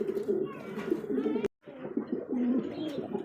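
A pigeon seller's flock coos close by in continuous, throaty rolling calls, broken by one brief silent gap before the cooing resumes.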